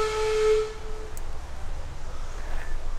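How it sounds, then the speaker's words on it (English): A train whistle sounds in the distance near a ginger factory in Yandina, Queensland, a single faint tonal blast lasting about half a second against quiet outdoor ambience. "All the while you hear the sound of the train off in the distance here."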